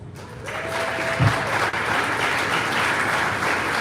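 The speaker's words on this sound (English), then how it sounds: "Give yourself a round of applause." Audience applause fills a live jazz concert hall, a steady, dense wash of clapping that holds at an even level throughout, with a brief thump partway through.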